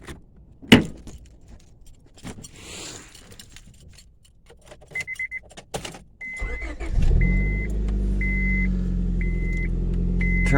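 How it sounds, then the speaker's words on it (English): Keys jangle and a few clicks come first, then a 2005 Honda Civic LX cranks and starts, and the engine settles into a steady, close idle while a chime beeps repeatedly. "and I'm going to start my car"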